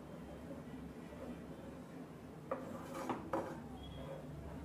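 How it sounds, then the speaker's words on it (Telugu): A spoon stirs thick milk cream into a mango ice cream mixture in a bowl, giving soft scraping and a few sharp clinks against the dish over a low, quiet background, with no talking. "ఇప్పుడు ఇవన్నీ ఒకసారి కలుపుదాం."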